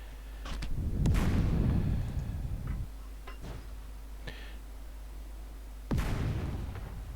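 Mortar fire in a war video game: a loud thumping burst near the start, then scattered faint ticks and clicks, then another sharp launch thump near the end over a low steady hum.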